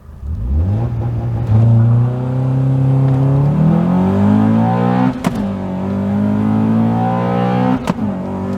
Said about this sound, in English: I'll launch it again and then I'll demonstrate that quick shift for you.